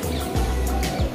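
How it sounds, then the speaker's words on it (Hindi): Birds chirp in short bursts over a constant low hum of background noise outdoors. "चहचहाट की आवाज़ आप सुन सकते हो"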